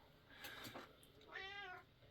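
A house cat meows once, a clear drawn-out call with a rising and falling pitch, heard close and alone indoors.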